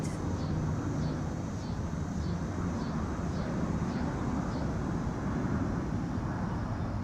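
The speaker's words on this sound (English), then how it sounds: "just like the sound of the planes" Airplanes passing overhead during a calm community yoga class, heard as a steady, even broadband roar that holds for the full stretch without breaks, moderately loud and constant.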